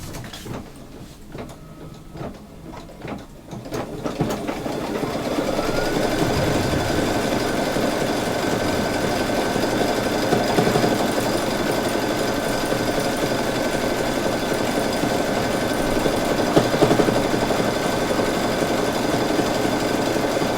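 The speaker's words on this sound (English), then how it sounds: "Okay, so now it's going to do satin stitch for the pumpkin." An embroidery machine sews a satin stitch on an in-the-hoop pumpkin coaster. After a few seconds of light clicking it settles into a loud, continuous rhythmic hum and rapid needle patter that runs steadily to the end.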